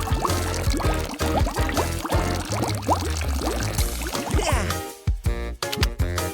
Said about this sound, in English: Now let's pour out our special concoction.